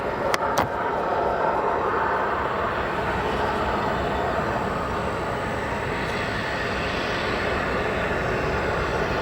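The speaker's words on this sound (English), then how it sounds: "Got an aircraft overflying the airport here." An aircraft passes over O'Hare airport with a broad, steady jet roar that stays loud and fairly close for the whole stretch, and a couple of sharp clicks near the start.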